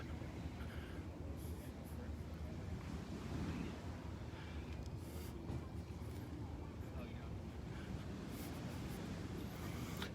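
Ocean surf at Vanderbilt Beach on a Sunday morning, a constant soft wash of waves mixed with wind buffeting the microphone, faint and even throughout.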